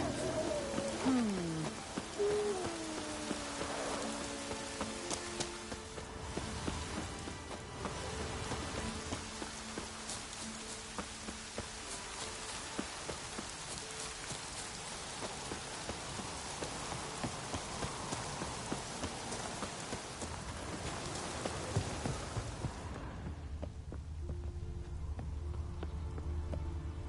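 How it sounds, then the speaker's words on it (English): Steady rain patters down continuously in The Witcher 3: Wild Hunt, with occasional clopping hoofbeats and brief musical tones early on, the downpour fading near the end. "It's raining."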